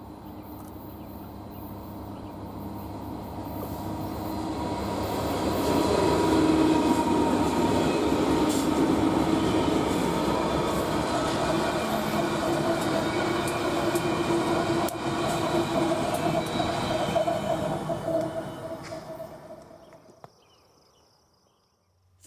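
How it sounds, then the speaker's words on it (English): A freight train led by EMD SD70M diesel locomotives rolls past, a loud, steady rumble of engines and wheels on rail that swells, holds for most of the pass and then cuts off, with no talk. "It wouldn't be long until the light power showed up, with some EMD SD70Ms on point."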